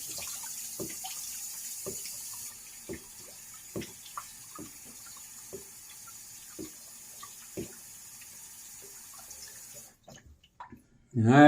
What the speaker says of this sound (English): I'm going to get my face wet with some hot water.